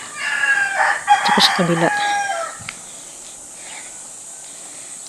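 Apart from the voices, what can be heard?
rooster crowing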